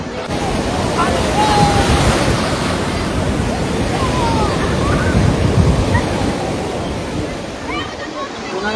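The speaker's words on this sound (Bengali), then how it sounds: "এখন আমরা রয়েছি পুরী বিচে, আর দেখো বিচটা কি সুন্দর লাগছে।" Loud ocean surf rolling onto Puri beach, a continuous close roar of breaking waves with wind noise blowing across the microphone for the whole stretch.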